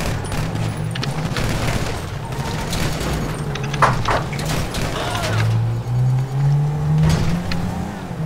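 Gunfire in the GTA V video game, with repeated shots and bursts scattered across a busy mix of vehicle engine drone, while a voice talks intermittently underneath.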